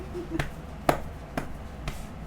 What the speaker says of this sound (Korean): 오늘 마지막 발박수예요.